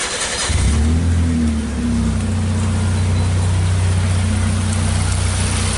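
A Nissan Sunny with a swapped engine and an intermittent crank sensor fault cranks briefly, then catches and settles into a loud, steady idle close by, with no voices.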